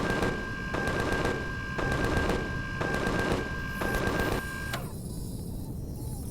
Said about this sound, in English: Shoot him, turret! Shoot him!